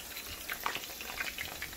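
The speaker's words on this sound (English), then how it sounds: "Ready to throw the sausage in the frying pan" Sausage sizzles in a frying pan with garlic and onions, a soft steady crackle with scattered faint pops, close and fairly quiet.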